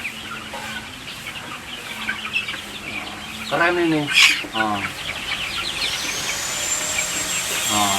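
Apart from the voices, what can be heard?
kampung chickens clucking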